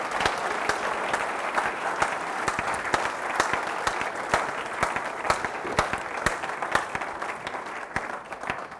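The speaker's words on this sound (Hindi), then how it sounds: "एक जोरदार तालियों से खुदा उनके नाम को बुला दें।" Loud applause from a church congregation, dense steady clapping with sharp individual claps standing out, sustained throughout without speech.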